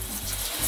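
Warm water from a tap splashes onto a smartphone screen protector film, a short burst of continuous close hissing spray.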